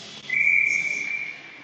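A referee's whistle blows one long, steady, shrill blast of about a second in the first period of a boys' ice hockey game, heard clearly over the arena's hollow background hum.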